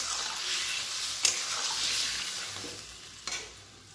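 Pumpkin and potato curry simmers in a pan after water is added, a soft watery bubbling hiss with two distinct knocks of a spoon as it is stirred, near but fairly quiet.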